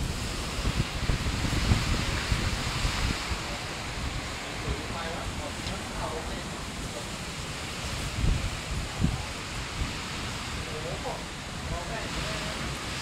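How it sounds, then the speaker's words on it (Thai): Strong wind roars through a hailstorm in Chiang Rai, a dense, continuous rushing gust with rattling debris, steady and loud throughout, while someone talks faintly beneath it. "ลมแรงมากครับ"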